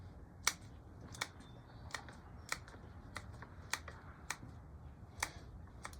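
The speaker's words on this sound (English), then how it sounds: "First thing I'm going to do is just cut the long roots away." Shears snip through the long roots of an Alberta spruce during repotting, producing a steady series of about a dozen sharp, close clicks spaced roughly half a second apart over a quiet background.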